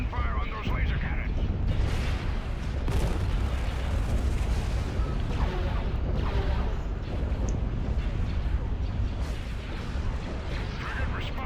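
Starship frigate laser cannon fire in the space strategy game Star Wars: Empire at War (Awakening of the Rebellion mod), a continuous dense barrage of booming blasts and bursts under a voice talking.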